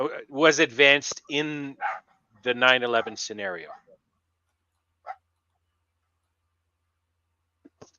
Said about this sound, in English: My dog's a little excited, sorry.